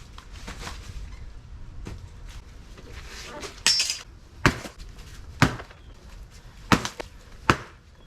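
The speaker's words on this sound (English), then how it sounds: "we finished the chop and drop" Plants in a Florida food forest being cut down for chop-and-drop mulch, several sharp, separate chops at irregular intervals, fairly close, over quiet outdoor background with faint rustling between strikes.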